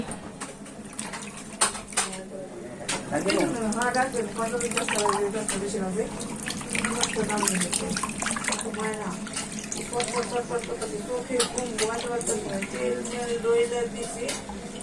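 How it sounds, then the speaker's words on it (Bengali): Raw chicken pieces are rinsed under running tap water, a continuous splashing gush with light clatter of the pieces and bowl, while someone talks over it. "ভালো করে পানি দিয়ে ধুয়ে নিচ্ছি"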